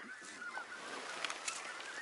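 Geese honking on a goose hunt, a harsh, scratchy call repeated a few times at moderate distance over steady open-air background noise, with no voices.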